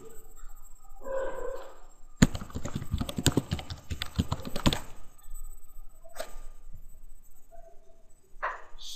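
Rapid clattering keystrokes on a computer keyboard in a burst of about two and a half seconds, with a few isolated clicks before and after in a quiet room.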